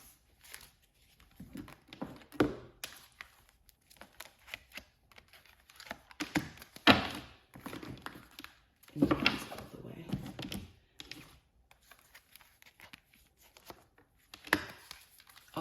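Oracle cards being shuffled and pulled on a tabletop, giving soft scattered riffles, slides and taps in irregular bursts, close and fairly quiet, with no talking.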